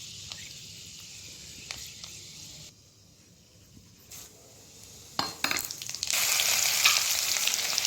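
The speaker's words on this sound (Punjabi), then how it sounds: "ਸਾਡਾ ਜਿਹੜਾ ਤੇਲ ਹੈ ਹੋ ਚੁੱਕਿਆ ਹੈ ਗਰਮ ਤੇ ਹੁਣ ਅਸੀਂ ਇਸ ਵਿੱਚ ਪਾਵਾਂਗੇ ਮੇਥਰੇ" Fenugreek seeds hit hot oil in a pan for tempering, a bright broadband sizzle that surges louder near the end over faint stirring and clinks, with no voices.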